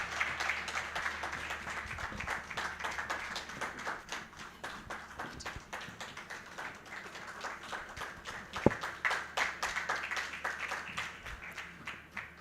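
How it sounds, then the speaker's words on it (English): Applause rises from an audience at a live charity event, with a steady, moderately distant patter of many hands clapping that continues without a break. "Endiro, everybody, a big round of applause."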